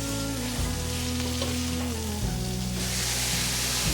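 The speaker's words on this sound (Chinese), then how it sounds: "放入白萝卜来炒软。" White radish stir-fried in a pan for a vegan shiitake dish gives a steady, close, continuous sizzle of frying throughout, with no voices.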